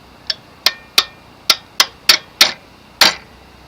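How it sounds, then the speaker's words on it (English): A hammer or mallet strikes a punched perforated metal strip clamped in a vise, eight sharp ringing blows at a steady, slightly irregular pace, loud and close. "with a mallet or a hammer"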